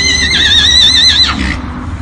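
A horse gives a loud, close whinny lasting about a second, its wavering call falling away at the end, with faint hoof clip-clop beneath.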